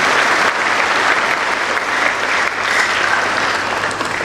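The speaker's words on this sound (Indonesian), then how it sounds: "Tepuk tangan dulu buat kepala sekolah, guru-guru, siswa-siswi." An audience at a school briefing event in Indonesia applauds principals, teachers and students, a full, even round of clapping that fills the hall without pause for about four seconds.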